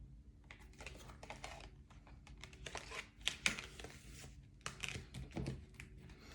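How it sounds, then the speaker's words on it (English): Soft, irregular papery flicks and crinkles of tarot cards being shuffled, close and fairly quiet, with a few sharper snaps; no talking. "I've shuffled the cards too"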